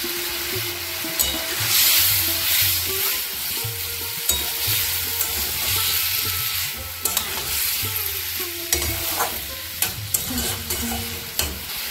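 Boiled bottle gourd and potato stirred into spices frying in oil, with a steady close sizzle and repeated scraping stir strokes throughout, no talking.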